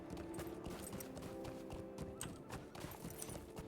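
Horse hooves clip-clop in steady rhythm in Lord of the Rings Online, set against a dense bed of game music and ambience with no talk.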